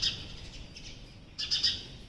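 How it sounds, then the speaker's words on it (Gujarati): Baby birds in a nest give thin, high chirps outdoors, faint and brief, with a short cluster of calls near the end against quiet background air. "અને આમાં છે ને બચ્ચા છે એનો અવાજ આવે છે"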